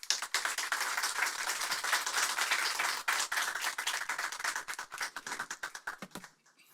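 An audience in a lecture hall applauds to welcome a visiting professor, a dense burst of many hands clapping that thins out into scattered claps and stops, with no talking.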